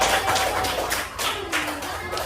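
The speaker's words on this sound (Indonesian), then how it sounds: "Kasih tepuk tangan untuk teman-teman kelompok Bromo." Schoolchildren in a classroom clap for their group Bromo, a fairly quiet scattered patter of hands with a faint voice underneath.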